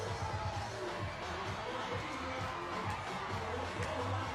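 A crowd of rugby fans at a home quarter-final match in Nausori, a dense, steady roar of voices and cheering at moderate distance that carries evenly throughout.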